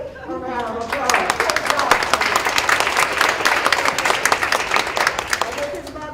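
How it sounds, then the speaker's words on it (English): Loud, close applause at a school board meeting, clapping from a room of people for a student that swells quickly and holds steady for several seconds, with voices briefly audible at the start and end. "Let's give Sage a round of applause."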